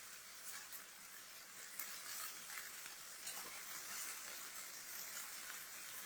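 Chicken and mushrooms browning in a skillet make a soft, continuous crackling sizzle with faint uneven pops, quiet and steady throughout, and no voices.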